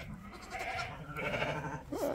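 Lambs and sheep bleat at a sheepfold in Ostrov, Hunedoara, with several wavering calls close by over a steady background murmur of the pen.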